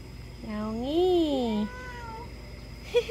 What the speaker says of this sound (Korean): 야옹아. 야옹이, 할머니